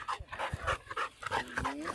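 A hunting dog pants hard and fast after retrieving a pheasant, close to the microphone, with a few soft whimpers mixed into the quick breaths.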